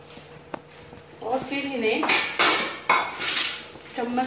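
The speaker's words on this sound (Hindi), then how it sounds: "चम्मच से हिला दीजिए" A spoon stirs cut potatoes for French fries in a pot of hot salted water, giving scraping, clinking utensil sounds against the pot, with one sharp tap early and a clear voice talking over most of it.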